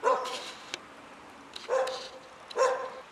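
A dog gives three separate sharp barks, fairly close and loud, each with a short whining edge, spaced about a second apart with quiet between them.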